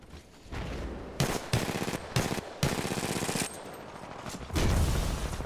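Sniper fire in the Titanfall 2 video game arrives as a series of loud, sharp gunshot cracks in irregular bursts, close and dominant over background game noise, with no one talking.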